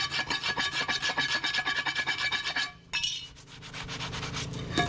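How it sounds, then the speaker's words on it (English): A rusty leaf spring plate from a Ford F150 gets scratched, a close, rhythmic rasping scrape with rapid strokes that stops briefly, then gives way to a softer, lingering grating. "Take your plate, give it a scratch."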